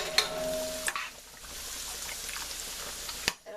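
Chopped onions frying in a pan while pumpkin pasta is being made, with a steady close sizzle broken by a few sharp clinks and stirring scrapes.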